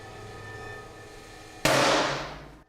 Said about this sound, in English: we're going to fire the gun in the vacuum chamber without a vacuum to be able to compare the two